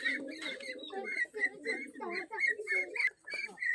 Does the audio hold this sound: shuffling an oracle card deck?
no